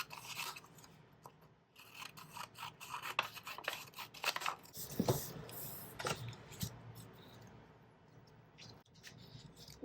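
Black cardstock being cut out by hand for a crafted birthday card: quiet, close scraping and snipping sounds, irregular and soft, with faint rustling of paper and no talking.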